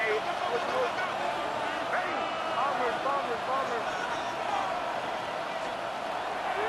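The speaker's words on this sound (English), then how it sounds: "The crowd making their presence felt." A stadium crowd in an EA Sports NFL video game roars steadily at a near-constant level on a third-down play, with busy layered cheering and no quiet gaps.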